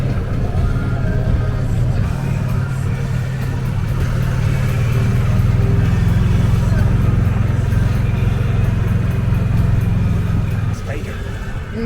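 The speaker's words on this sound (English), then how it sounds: "It's a scooter." A scooter engine buzzes past a golf cart cruising a neighborhood on Halloween night, a steady motor drone under the cart's own hum, fading near the end, with people talking.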